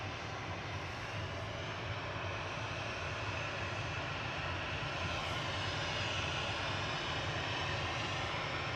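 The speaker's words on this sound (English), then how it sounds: "GTAWY heading off to Innsbruck, 737-800" A Boeing 737-800 jet departs Manchester Airport for Innsbruck, a steady, broad engine roar held at an even level throughout, fairly distant and with no talk over it.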